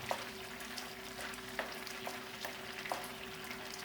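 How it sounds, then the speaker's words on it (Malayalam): Mushroom masala curry is stirred in a pan, with soft, faint scraping strokes repeating at an irregular pace over a low, continuous simmering sizzle and no voices. "ഇനിയിപ്പോൾ ഒന്ന് എടുത്ത് നമുക്കൊന്ന് ഇളക്കി കൊടുക്കാം"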